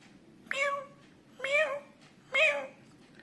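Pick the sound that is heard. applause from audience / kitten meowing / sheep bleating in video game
kitten meowing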